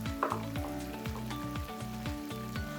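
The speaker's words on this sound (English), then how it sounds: "as your wings are cooking" Barbecue chicken wings cooking with a steady, faint sizzle and crackle, accompanied by repeated low pulsing tones throughout, without talk.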